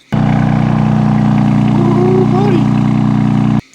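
A stock, factory-standard BMW M car engine runs at a steady idle, a close, continuous low droning hum with a faint rising tone partway through, heard alone.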